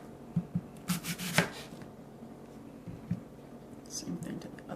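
A knife cuts an apple into thin slices for a bento lunch, giving a few quiet, crisp cutting clicks in a short cluster and then one more later, over a low room background.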